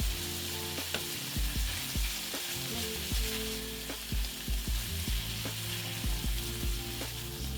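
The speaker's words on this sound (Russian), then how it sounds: "Жарим все вместе примерно 2 минуты на большом нагреве." Pilaf ingredients with onion, dried fruit and raisins frying together over high heat, a steady loud sizzle with intermittent scraping stirs and clinks of a utensil throughout.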